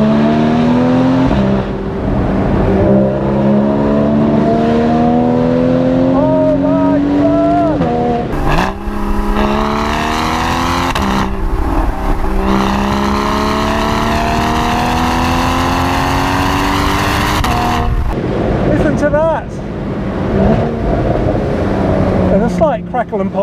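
A 2023 Porsche 718 Boxster GTS 4.0 in sports exhaust mode revs hard through several rising pulls, loud and close, with sharp crackle and pop bursts between shifts and a voice talking over parts of it.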